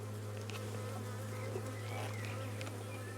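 A steady, low hum of many honeybees buzzing close by at an open hive, continuous and even throughout with no talking.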